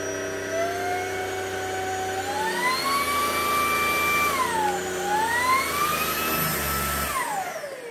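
A household vacuum cleaner runs continuously with a loud whining motor, its pitch climbing and dropping as the speed settings are switched, then falling away as it shuts off near the end.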